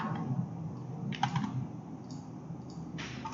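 Typing on a computer keyboard: a few quiet, scattered keystroke clicks over a faint room background, with no voices.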